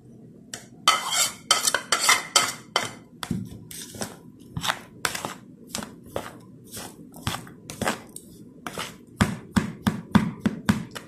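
Spices being mixed into mashed potato filling for aloo paratha: repeated sharp clinks and scrapes of a spoon against a metal bowl, in irregular bursts close up, with no talking.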